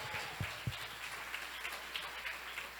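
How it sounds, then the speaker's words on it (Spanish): A church congregation applauds, producing a steady wash of clapping at moderate distance with a couple of sharper thumps near the start. "Quiero que alguien aplauda fuerte al Rey de Reyes y Señor de Señores."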